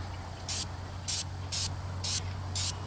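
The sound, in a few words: spray painting a metal roof with a low pressure tip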